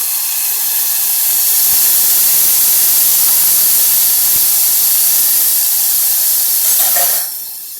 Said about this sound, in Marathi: आता हा मटर आपण याच्यामध्ये घालून घेऊ